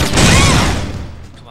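Gunfire in the Jak 2 video game: a dense burst of close, loud shots fired in rapid succession, then a fading rumble, with game noise and voices mixed underneath.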